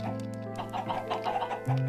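Clucking chickens from the Minecraft Crazy Craft modpack, several short bird calls repeating over a steady game background with no talk.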